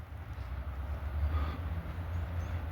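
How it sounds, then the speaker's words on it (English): A southbound double stack freight train rolls past near the tracks in Abbeville, a steady low rumble of heavy rail cars that holds loud and even throughout, with no voices. "It looks like the double stack to me."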